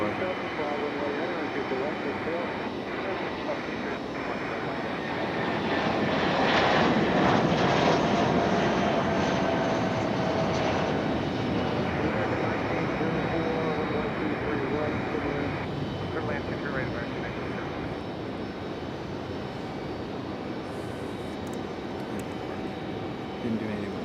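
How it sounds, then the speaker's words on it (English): United airliners departing one after another at night from Raleigh-Durham International Airport, a steady loud roar of jet engines that swells and holds throughout, heard at moderate distance with no pause. "United on the move, rapid fire departures."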